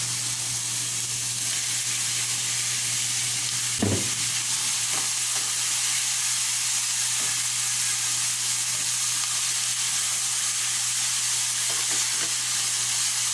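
Chopped red onion, carrot and green sweet pepper sauté steadily in a pan for lobster fried rice, a continuous close sizzle and hiss with one brief stir or clatter early on, no voices.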